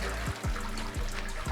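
A toilet flushes inside a 3D-printed house, a steady rushing gush of water that fills the whole short stretch at close range with no talking over it.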